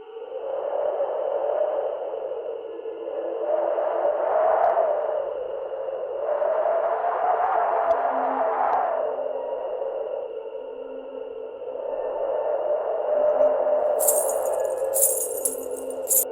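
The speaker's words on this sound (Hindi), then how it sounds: "मुझे तो पायलों की कुछ आवाज आ रही है।" Anklet bells jingle in a Hindi ghost story set in a government quarter at night, faint repeated shakes over a steady tone, with brighter jingles near the end.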